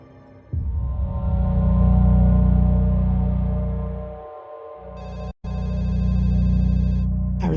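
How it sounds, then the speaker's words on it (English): A telephone rings with a steady electronic tone that holds for several seconds, breaks off briefly, then resumes and keeps ringing, loud and close, with no talk over it. "I received a phone call from a private number,"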